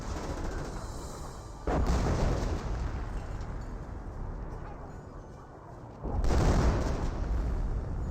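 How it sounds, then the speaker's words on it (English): Artillery fire in the World War II strategy game Company of Heroes: two heavy, booming blasts several seconds apart, each followed by a long rolling rumble under continuous battlefield noise. "Take a bit of artillery fire as well."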